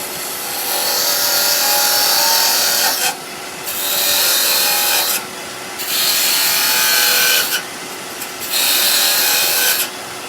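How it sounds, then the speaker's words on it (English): Parting tool cutting into tulip wood timber on a wood lathe, a steady broadband rasping scrape in four long passes separated by brief pauses, close and loud with no talk. "let's get a parting tool"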